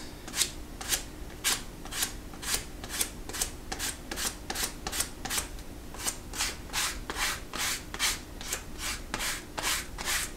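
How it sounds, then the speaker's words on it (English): Sandpaper is rubbed over leather for a card holder, all strokes in one direction: a steady series of about twenty close, even rasping swipes with no talk. "I'll take my sandpaper and then I go all in one direction."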